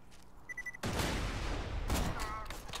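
Gunfire in the Borderlands 2 shooter game bursts in loudly after a short quiet moment and runs as sustained rapid shots. A fresh volley comes near the end, with a few faint tones just before the shooting starts.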